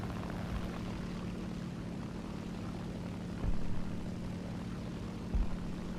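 A Spitfire LF Mk 9C piston fighter in the War Thunder video game drones steadily with a constant propeller-engine hum, loud and unbroken, with two brief bumps in level and no voices.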